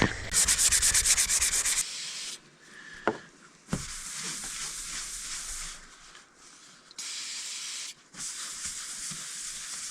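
Sandpaper rasps over the surface of a truck camper shell in close, loud bursts separated by short pauses and a couple of knocks while the area is cleaned up for mounting Starlink brackets.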